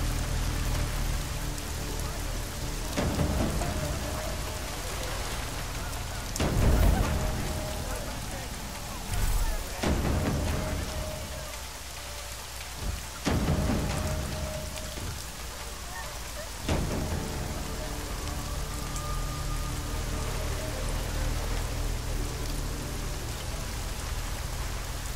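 Steady rain falls in the game Deus Ex: Mankind Divided, a constant broadband hiss with scattered louder bursts and thumps, while someone talks over it.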